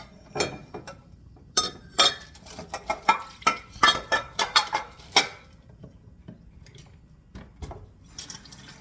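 An item tossed into a kitchen sink clatters among dishes and metal utensils: a run of sharp clinks and knocks, close and fairly loud, then quieter rattling.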